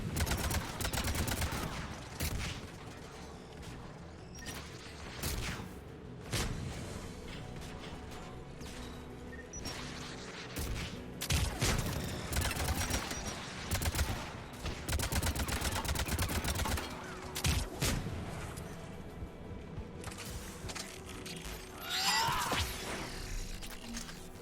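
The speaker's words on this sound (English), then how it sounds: "AA guns ahead of us." Anti-aircraft guns firing in Mass Effect 3: repeated heavy, booming volleys of gunfire at irregular intervals over a constant mechanical rumble, fairly faint and distant.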